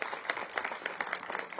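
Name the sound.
crowd applause at school groundbreaking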